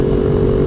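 A KTM RC390's 373cc single-cylinder motorcycle engine gives a brief, loud, steady buzzing drone with a strong low hum. No speech.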